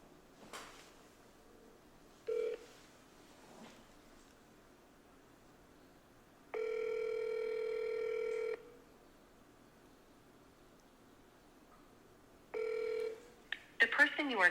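Telephone tones from a sales cold call: short beeps of dialing, then a long steady ring tone and another brief ring, with a voice speaking between them.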